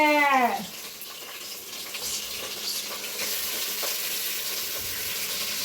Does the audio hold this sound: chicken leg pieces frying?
yes